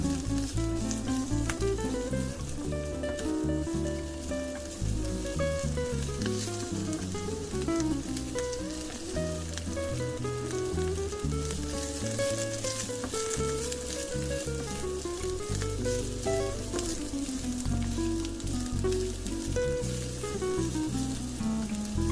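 Garlic frying in a pan, a soft continuous crackle and sizzle, fairly quiet and steady, heard alone without talk.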